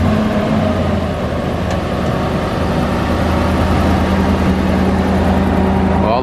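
Supercharged 6.2 engine with a Whipple supercharger on a cold start, a loud steady rumbling idle with low droning tones and slight fluctuations, running continuously close by.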